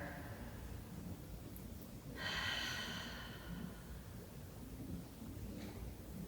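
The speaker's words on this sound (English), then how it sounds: "take a couple of really deep breaths here" One slow, deep breath drawn in close to the microphone stands out over a quiet, hissy room background, then fades back to stillness.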